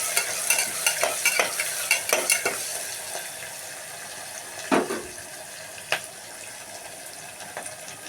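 Onions sautéing with a little salt in a pan, with close, irregular clatter and scraping of a stirring spoon over a faint sizzle, busier at first and then sparser.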